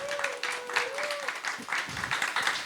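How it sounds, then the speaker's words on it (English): An audience at a Houston music forum applauds, with a moderate wash of clapping that swells in uneven pulses while a voice carries on faintly underneath. "So let's give her a big round of applause."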